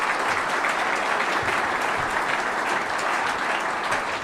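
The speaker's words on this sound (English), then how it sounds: "So if anyone give her a round of applause" Dense, steady applause from a large crowd at a Wake Forest press event welcoming a new coach, honoring the coach's wife, loud and continuous throughout with no talk over it.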